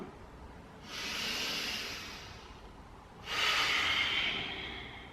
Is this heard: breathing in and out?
yes